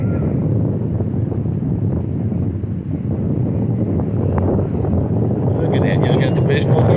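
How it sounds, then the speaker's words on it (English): Cold wind buffets the microphone outdoors, a loud continuous rumbling roar with gusts, and faint chirps rise near the end. "How about this wind? It's cold under here."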